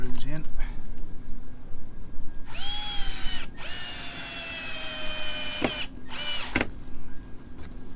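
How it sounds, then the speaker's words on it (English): A power drill drives screws into a garden fence under repair after storms, its motor whining in two long bursts with brief pauses and clicks between. Someone talks during parts of it. "So now I'll pop a couple of these screws in"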